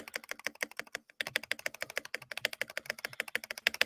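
Fast, crisp clicking of a mechanical computer keyboard, keys struck in rapid uneven bursts with one brief pause, close and clear with no talking.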